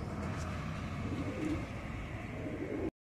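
Racing pigeons coo softly around a loft, low throaty murmurs over a steady background hum, fairly faint and without voices.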